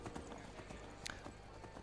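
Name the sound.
horse hooves clip-clopping in video game Skyrim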